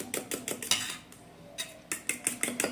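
Eggs being beaten with ginger-garlic paste, chili powder and salt for a bread omelette: quick rhythmic clinks of a utensil against a bowl in fast bursts, with a brief pause midway, close and clear.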